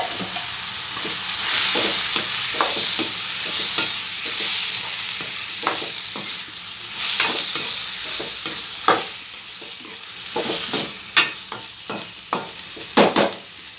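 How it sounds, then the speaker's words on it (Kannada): Soaked prawns go into a hot pan and fry with a steady, loud sizzle, stirred now and then, with sharper scraping and spattering bursts toward the end; no voices. "ಈಗ ನಾವು ನೆನೆಸಿರೋ ಅಂಥ ಪ್ರಾನ್ಸ್ ಸೇರಿಸ್ತಾ ಇದ್ದೀನಿ"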